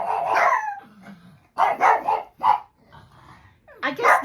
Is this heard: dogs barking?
yes